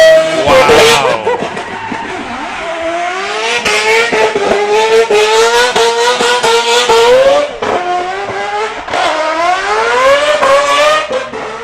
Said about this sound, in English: What a ridiculously beautiful noise that is. Four-rotor, wide-body RX7, aero discs.